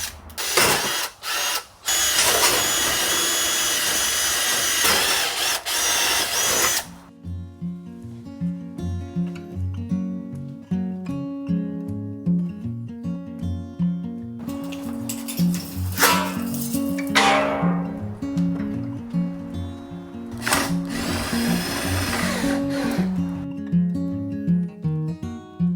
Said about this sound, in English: you definitely want to pre-drill all your holes before you put it up there